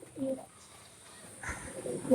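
Teddy pigeons coo in soft, low bursts near the listener, with a quiet gap mid-way before the cooing resumes and grows louder at the end.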